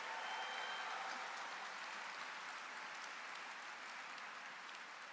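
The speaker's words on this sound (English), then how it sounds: "Give them all a big round of applause" Steady, even applause from a graduation audience at an engineering recognition ceremony, a dense wash of many hands clapping that fills the whole stretch at a moderate distance and fades only slightly toward the end.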